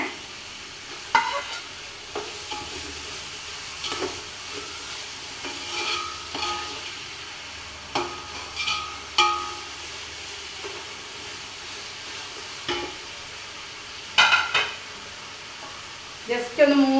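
Tomatoes sizzle and fry in a pan, lifted by a steady spatula stirring whose scrapes recur every second or two. The sound is close and fairly loud, and there is no talk.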